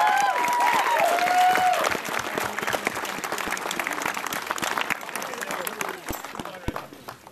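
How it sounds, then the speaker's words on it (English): Crowd applause and cheering at an outdoor community relay event for the 2011 Rick Hansen Tour in Elgin, a loud dense burst that gradually thins to scattered claps. "Let's give a big round of applause to all of them."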